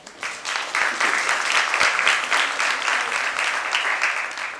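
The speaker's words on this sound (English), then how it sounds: "Can we have a huge round of applause?" A conference audience applauds at the opening session of a nursing conclave in a Mumbai hotel, giving a steady, dense round of clapping that holds at a fairly loud level for several seconds.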